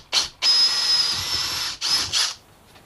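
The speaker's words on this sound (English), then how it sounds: "I'm going to start relatively far in because this is a bit of an aggressive drill." A power drill with an aggressive bit whirs in short bursts while drilling a hole for a boat's marine electrical panel: a quick spin, a long steady run, then two brief pulses, loud and close.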